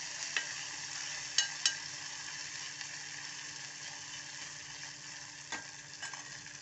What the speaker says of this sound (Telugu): ఇప్పుడు స్టవ్ చిన్నగా చేసుకొని ఇలా కలుపుకోవాలి